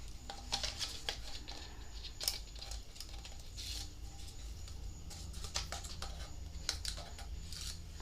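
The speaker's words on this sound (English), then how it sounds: "And then we're just going to pull off all the tape paper." Backing paper being peeled off adhesive tape on a small mini cup, a faint close-up run of crinkly rustles and light tearing crackles spread across several seconds, quiet and unaccompanied by speech.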